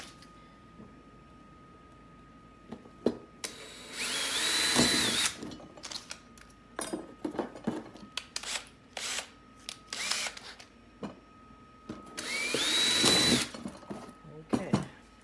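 Power drill boring into a homemade phone cradle for a DJI Spark drone, two loud whirring bursts of several seconds each with clicks and handling noise between them and no talk.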